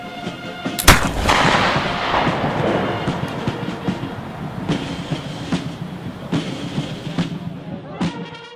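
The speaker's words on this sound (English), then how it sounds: "It does, however, provide the firer the advantage of shooting over cover, as is demonstrated here." Pattern 1800 Baker flintlock rifle fired from a standing position, one sharp loud report near the start followed by a long rumbling decay, with faint metallic clicks and handling noises trailing after.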